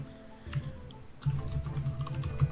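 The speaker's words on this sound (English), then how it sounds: "So some rage typing from Katips" Fast, forceful computer keyboard typing during a Hearthstone esports match, a quick clatter of keystrokes that grows louder and denser halfway through, with no talking over it.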